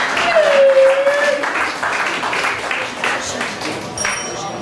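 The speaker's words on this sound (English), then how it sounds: "Guys, let's give Jason another round of applause, huh?" Applause from a comedy open mic crowd in a bar, loud at first and then tapering to a steady patter of clapping, with a brief whistle early on.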